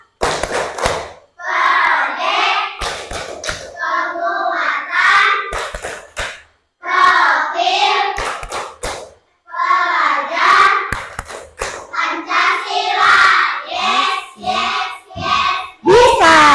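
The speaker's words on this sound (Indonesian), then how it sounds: "Coba tepuk P5." An elementary school class claps in unison during a rhythmic P5 chant, sharp hand-clap bursts punctuating loud group chanting and children's voices throughout.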